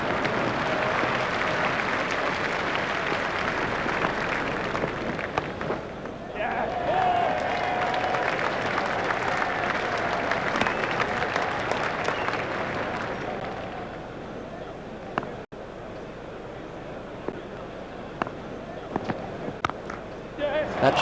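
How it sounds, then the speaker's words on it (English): A stadium crowd at a T20 World Cup cricket match between India and Sri Lanka cheers and applauds a boundary in a broad, sustained roar that fades toward the end. "Crowd were brought to their feet by that shot."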